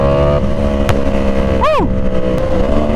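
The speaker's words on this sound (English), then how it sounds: "The auto blipper on this bike is super good. Listen to those pops too." A Yamaha R1 motorcycle's engine drones steadily with a rising and falling rev, broken by a couple of sharp exhaust pops as the auto blipper works through the shifts.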